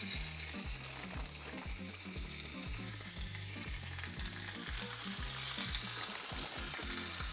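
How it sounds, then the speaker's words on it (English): Lamb chops sear in a hot pan after excess garlic and herbs are wiped off, a steady close sizzle under a regular thumping beat, likely background music, with no speech. "we're just gonna place it on a pan"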